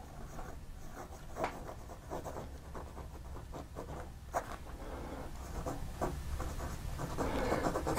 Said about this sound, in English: this nib is more challenging to write with than any of the other ones